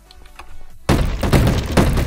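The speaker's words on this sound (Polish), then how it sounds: "mamy Desert Eagle, akurat strzelacie lewym i prawym przyciskiem myszy" Desert Eagle pistol fired in a Minecraft GTA server game, a sudden loud blast after a quiet lead-in, followed by a sustained noisy burst and another sharp report near the end.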